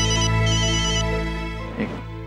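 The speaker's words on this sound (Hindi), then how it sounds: "लो एक और फोन आया।" An incoming-call phone ringtone plays steadily and fairly loud for about two seconds, a repeating electronic melody, with a brief voice sound near the end.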